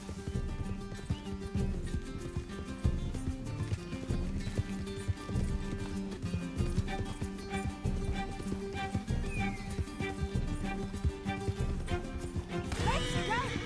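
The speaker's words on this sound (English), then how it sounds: "Can't this horse go any faster?" Hooves clop in a fast, continuous galloping rhythm under layered audio from the video game Red Dead Redemption 2, with occasional crashing sounds near the end.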